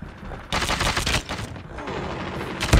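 Rapid automatic gunfire in the mobile shooter Call of Duty Mobile on the Nuketown multiplayer map, dense bursts of shots that swell loudly midway and continue with a scattered rattle, no talk.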